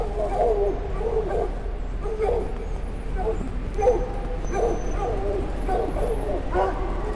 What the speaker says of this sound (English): The dog sounds seem to just be looping.